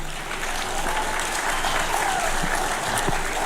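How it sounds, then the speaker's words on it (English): Dinner audience applauding a former Safari Rally driver, a steady dense wash of clapping hands filling the room throughout, loud and continuous with no talk over it. "a big round of applause to Mike Ackland."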